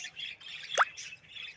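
A parent pet bird gives a single loud squawk amid faint chirping from baby birds kept at home, a sharp call close by with no talk.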